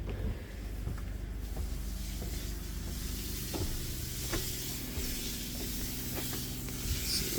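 A water spray rinses a house exterior during soft washing, heard as a faint, steady hiss of spraying water that continues without a break, with a few soft knocks in the background.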